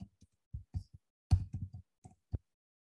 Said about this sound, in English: And this time I'm setting active as yes and clicking on save.